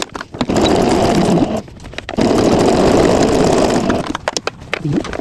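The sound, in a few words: sewing machine stitching a fabric glasses case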